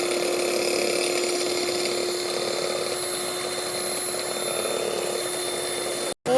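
An electric hand mixer runs at its highest speed while whipping a batter, making a steady, high-pitched motor whine that holds close and constant before cutting off abruptly.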